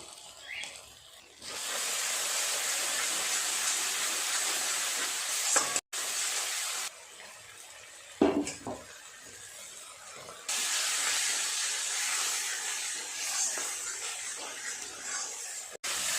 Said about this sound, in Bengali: ভালো করে মশলাটা আরেকটু কষিয়ে নেব।